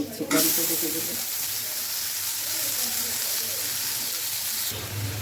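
Rotis frying in a pan, a steady broadband sizzle like light rain that holds loud and even for several seconds, with a brief voice at the start.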